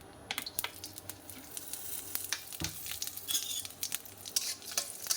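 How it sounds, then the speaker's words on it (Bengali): Chili and cumin fry in hot oil with a steady sizzle, broken by frequent stirring scrapes and light clinks of a utensil against the pan, no speech. "লঙ্কা জিরাটা তেলের ওপরে ভেজে নেব।"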